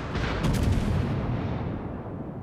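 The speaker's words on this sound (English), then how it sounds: "He's firing at me because the South Carolina's got me spotted." Battleship guns in the video game World of Warships fire as one heavy, booming salvo that rumbles and fades away over a couple of seconds, with no talk over it.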